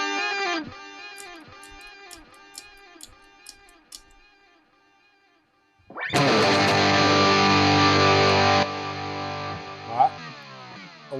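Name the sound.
guitar with reverb and delay effects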